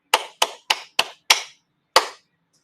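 Students in a music lesson clap a rhythm: five crisp, close hand claps at a steady beat, then a short gap before one final clap, with silence between each.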